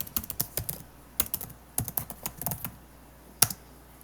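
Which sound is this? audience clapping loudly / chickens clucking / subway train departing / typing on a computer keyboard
typing on a computer keyboard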